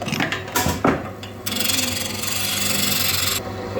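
Wood being pared and shaped by a chisel on a bagpipe, steady rasping scrapes after a few short knocks and scuffs, close and fairly loud.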